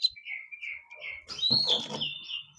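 Oriental magpie-robins chirp in a series of clear, high tweets, several quick calls overlapping near the middle with a brief broadband rustle, fairly close and moderate in level.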